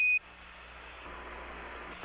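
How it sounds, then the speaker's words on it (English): Apollo 11 lunar module 1201 program alarm gives a steady electronic tone at the start, cuts off into a hiss of radio static, then returns briefly at the very end. "Roger, 1201 alarm."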